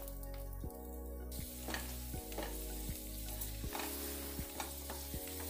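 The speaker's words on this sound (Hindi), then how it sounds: "पहले किशमिश फ्राई कर लेंगे क्योंकि किशमिश थोड़ा फूलती है।" Raisins fry in ghee with a soft, steady sizzle and occasional light stirring taps, heard faintly beneath a low hum, with no talk.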